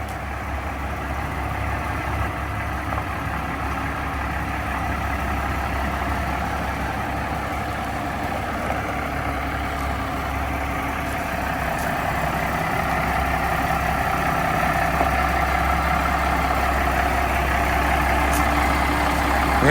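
A 1986 K3500 truck with a swapped-in 12V Cummins diesel idling steadily and loud, a deep continuous low rumble that builds slightly toward the end, with no talking.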